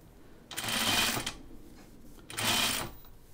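A home sewing machine stitches in two short bursts, each about a second of rapid, close mechanical whirring and clatter separated by a pause, with quiet room tone between.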